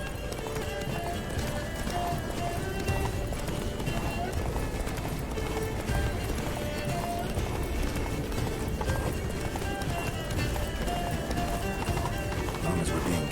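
Roach the horse galloping in The Witcher 3, a rapid continuous drumming of hooves throughout, mixed with game sound and voices talking over it.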